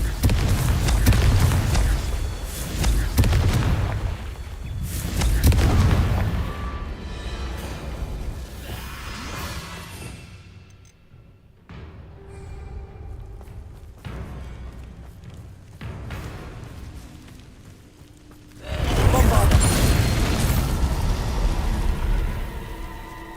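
Confringo blasting-spell explosions in Hogwarts Legacy go off as loud booming bursts with heavy low rumble, one cluster at the start, another around five seconds and a big blast near the end, with quieter rumbling stretches between.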